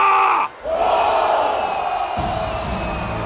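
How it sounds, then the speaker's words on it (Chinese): A large battlefield crowd roars and cheers in the video game Romance of the Three Kingdoms 13. A loud, sustained mass shout breaks off briefly, then swells again and holds steady to the end, with no clear speech. "我亲手讨伐了逆贼董卓，各位，高声欢呼吧！"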